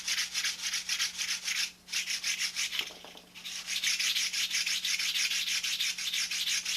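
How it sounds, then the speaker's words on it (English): Sandpaper rubbed across the balsa wing ribs of a model airplane in quick rhythmic back-and-forth strokes, close and crisp, with one short pause partway through before steady sanding resumes. "You get used to hearing that sound of running a sandpaper across the ribs."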